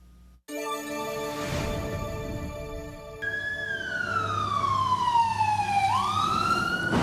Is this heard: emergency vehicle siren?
yes